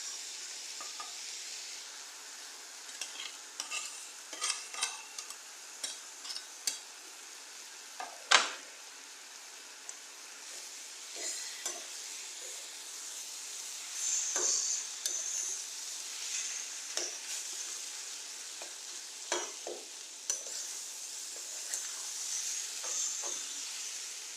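Paneer and tomato chutney sautéing in a pan, a soft steady sizzle broken by scattered scrapes and knocks of the spoon stirring, close and quiet, without speech.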